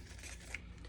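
Scissors snip through a paper snack wrapper along its white edge, a soft brief cutting sound heard close up and alone against a steady low background hum.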